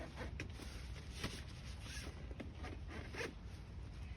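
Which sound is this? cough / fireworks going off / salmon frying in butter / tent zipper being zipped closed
tent zipper being zipped closed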